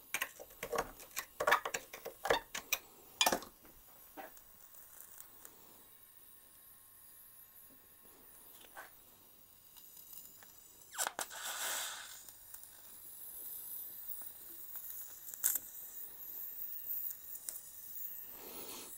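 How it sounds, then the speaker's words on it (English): Vice grips work a seized, heated carburettor throttle spindle, producing close metallic clicks, ticks and scraping: a dense burst of sharp snaps early, then quieter intermittent creaks and grinding. "Now all I'm doing is heating up the shaft and basically trying to work the throttle spindle with my vice grips"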